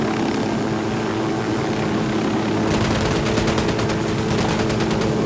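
Sustained automatic gunfire in Ghost Recon Wildlands, a dense rapid rattle of shots that builds partway through over a constant roar, loud and close throughout.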